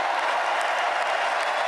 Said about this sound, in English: Why are they clapping for that?